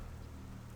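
Steady rain pattering in The Sims 4 video game, a soft, even wash of drops with no voices during the brief moment.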